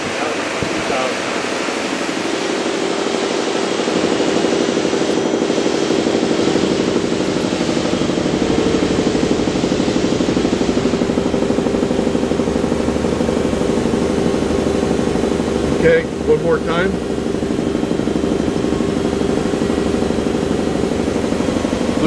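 A Femco HL25 CNC lathe with a straight tailstock runs its spindle at 2,000 RPM, a steady, loud mechanical whir and hum filling the whole stretch, with brief talk over it and a short clunk near the end.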